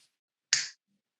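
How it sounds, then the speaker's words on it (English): A single sharp finger snap, close and crisp, standing alone in otherwise near silence. "Snap my fingers. Literally like that."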